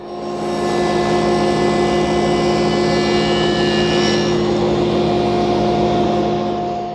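A SawStop table saw spins with a steady, loud, tonal whine and hum while scoring a raised panel, its drone swelling in at the start and holding evenly throughout, with no talk.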